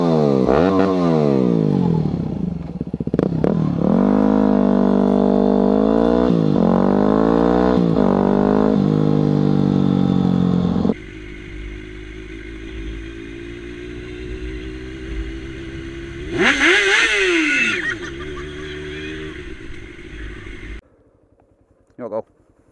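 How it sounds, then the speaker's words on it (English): A motorcycle engine revved repeatedly, loud and close, with sweeping rises and falls in pitch before settling to a quieter idle and then cutting off, while people talk nearby. "You want to rev it? Go ahead, rev it."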